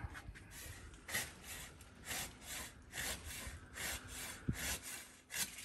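A dull hand saw cuts through the wood of a garden persimmon tree in steady back-and-forth strokes, close and rhythmic, with no talking.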